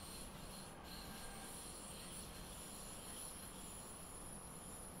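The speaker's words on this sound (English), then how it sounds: "As we are coming into the station, they tend to smooth out as we come into stations." Train on the Munich to Garmisch-Partenkirchen line braking as it arrives at a station, a steady, faint rumbling rail noise with a high squeal of the wheels running throughout.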